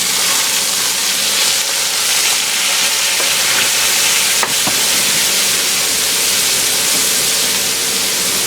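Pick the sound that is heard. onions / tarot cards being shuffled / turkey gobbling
onions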